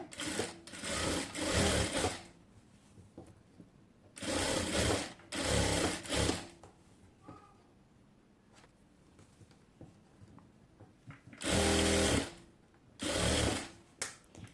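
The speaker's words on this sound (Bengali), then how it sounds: "তো রাবারের জন্য হচ্ছে আমি একটি ভাঁজ দিয়ে হচ্ছে সেলাই করে নেব।" Sewing machine stitching a fold of fabric to hold the elastic on baby girl's shorts, running in several loud, close bursts of rapid mechanical whirring separated by quiet pauses, with no talking.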